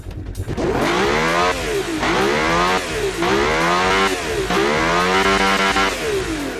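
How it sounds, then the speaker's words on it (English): A V12 twin-turbo engine in a Caterham revs repeatedly in the video game BeamNG, rising and dropping in four or five long sweeps, loud and close, with no one speaking. "let's give our new V12 twin turbo a bit of a listen"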